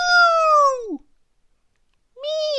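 A cartoon cat gives two loud, close meows, a long drawn-out one then a shorter one after a brief silence, set in an animated children's story about skeletons.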